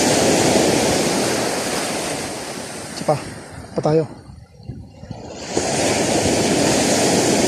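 Strong ocean surf crashes and hisses steadily alongside gusting wind on the shore, loud and close, briefly easing while someone speaks a few words before the waves swell back.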